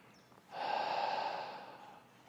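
A single slow, audible breath is drawn in during a Pilates exercise, a soft, airy rush close to the microphone that rises quickly and then tapers off in a quiet room.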